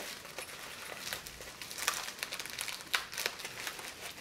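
Crisp crinkling of plastic bubble wrap being handled close by, with scattered sharp crackles and pops over a soft rustle, no voices.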